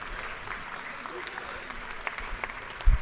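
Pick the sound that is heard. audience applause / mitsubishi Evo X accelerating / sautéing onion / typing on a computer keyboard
audience applause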